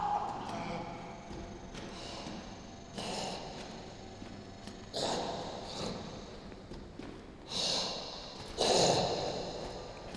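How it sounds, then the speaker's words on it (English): A video game zombie creature making rasping, guttural coughing and snorting sounds, heard in repeated bursts a second or two apart, breathy and harsh, growing louder toward the end over a low background. "That sounds like someone coughing up their guts."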